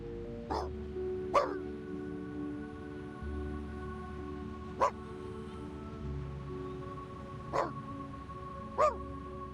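Puppy in the video game Reverse: 1999 barks in about five short, sharp yaps spaced a second or more apart, close and clear over a soft background hum and low music, with no talking.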